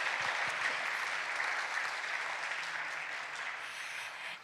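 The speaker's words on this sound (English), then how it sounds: "So please give them a round of applause." An audience at a school Christmas concert gives a steady, dense round of applause that fills the room and tapers slightly near the end.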